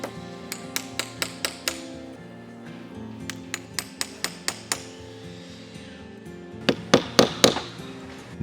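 New spline being tapped into the cane seat groove of a Victorian chair, sharp light mallet taps in quick rhythmic runs of four to six, close and distinct over a quiet workshop background.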